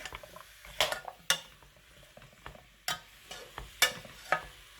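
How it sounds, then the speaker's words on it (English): Carrot and pepper soup being stirred in a pot with dry ingredients just added: a handful of sharp spoon scrapes and knocks against the pot, spaced irregularly over a soft simmering background. "Give it a good stir"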